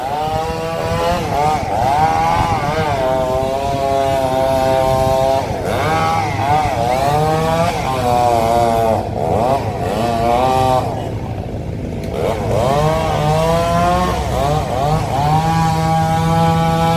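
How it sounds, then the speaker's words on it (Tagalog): A loud chainsaw revs and bogs repeatedly over about seventeen seconds, its pitch rising and falling as it cuts tree branches after a tornado, close by and continuous. "So itig ma-start na sila sa chainsaw no."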